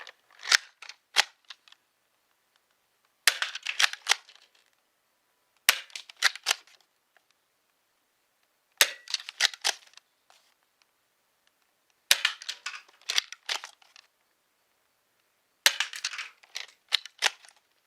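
A Dart Zone Pro MK 2 foam dart blaster is reloaded and worked in six separate bursts of sharp plastic clicks and clacks, close and distinct, with silent gaps between them.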